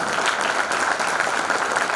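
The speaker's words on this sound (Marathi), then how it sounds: "जोरदार टाळ्या झाल्या पाहिजे" Steady, dense applause from an audience at a JSG Padgrahan installation ceremony, a continuous wash of many hands clapping at even loudness for the whole stretch, with no voices standing out.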